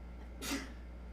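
A single short sneeze bursts out against a quiet room with a low steady hum, brief and moderately close.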